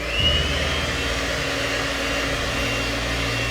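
An electric whisk beats a mixture in a bowl filled to the brim, producing a steady, close mechanical whir with a constant motor hum and no talking.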